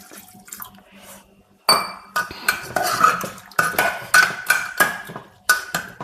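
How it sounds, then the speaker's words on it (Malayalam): Water is poured into a cooking pot holding chopped mango with salt and chili, splashing among sharp metallic clinks and clatters of the pot and utensils that come in repeated close bursts, with no talking. "അപ്പോൾ ഇത്തിരി വെള്ളം കൂടി ഒഴിക്കാം"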